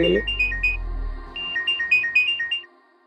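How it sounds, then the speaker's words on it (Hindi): A phone ringtone plays a bright, repeating electronic melody, loud and close, ending abruptly after a few seconds. "आ गया ना मैडम का फोन।"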